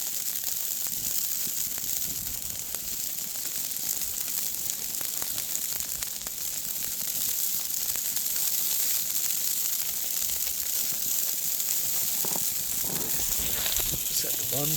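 Burgers frying on a cooktop during an outdoor ice fishing trip, a steady hiss and crackle of sizzling fat that runs throughout with a few brief clatters near the end.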